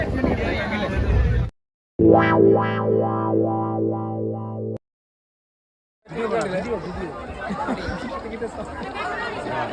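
Passengers on a packed, crowded train fill the air with thick, constant babble from many voices. The chatter cuts out into silence, a short burst of distorted, tonal processed sound plays, then there is another silence before the busy crowd noise comes back.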